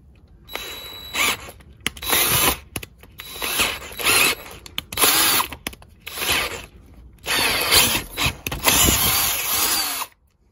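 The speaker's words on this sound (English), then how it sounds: "so I'm going to drill that hole" A power drill on its slow speed setting bores out a damaged spark plug thread hole in an engine cylinder head, whirring in repeated close bursts of about a second each with short pauses between, no talking.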